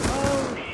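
Rapid gunfire from a weapon being hip-fired in Black Ops 2, a dense continuous burst of shots held close and loud for under a second.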